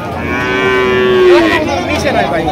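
A cow at a busy cattle market in Chandimura, Comilla, gives one loud, close, drawn-out moo that bends down in pitch, with a muffled crowd murmuring behind it.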